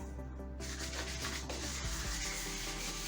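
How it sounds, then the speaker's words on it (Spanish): Fine 360-grit sandpaper rubs over a polyurethane finish on a coffin during polishing, a steady close, continuous scratchy rasping with no speech. "vamos concluyendo lo que es la primera parte del pulido con nuestra lija grano 360"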